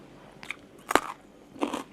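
Crispy fried pork gets bitten and chewed up close, a sharp loud crunch in the middle flanked by softer crackling bites before and after.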